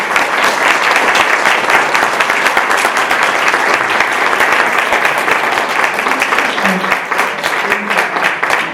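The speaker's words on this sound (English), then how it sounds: "let's have another round of applause for" Audience at a criminal justice reform forum applauding, dense sustained clapping from a full room, loud and even throughout with a faint voice near the end.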